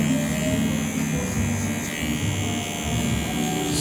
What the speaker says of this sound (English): I'm going to show you how to remove with using the shaver. Turn it on and then gently, without scraping the skin,